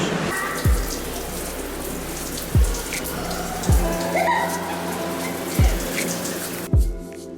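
A running shower hisses steadily, with several deep thumping knocks spaced about a second apart through it and some faint voices in the background.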